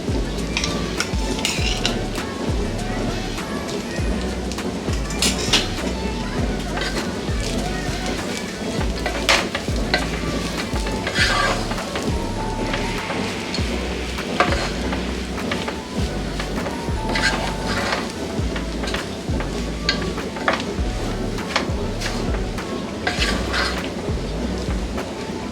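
Onion rice being mixed in a pan with grated coconut, a continuous close scraping and stirring with soft clatter of the spoon against the pan.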